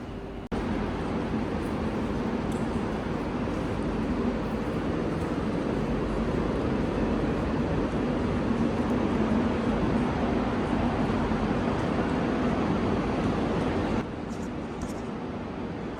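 Steady, dense ambience inside Barcelona França, a large 19th-century railway terminal with an old train shed: a broad, continuous wash of rumble and murmur that stays even throughout and eases slightly near the end.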